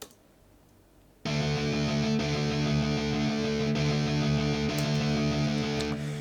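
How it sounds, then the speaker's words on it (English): Two distorted electric guitars a fifth apart sound a power chord, which starts abruptly after a second of near silence and then sustains, thick and steady, to the end. "So the two guitars sound like that."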